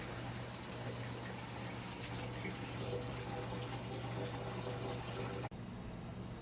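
Kolsch wort heating toward a boil in a brew kettle, a steady rushing, bubbling hiss with a low hum underneath, continuous with no talking.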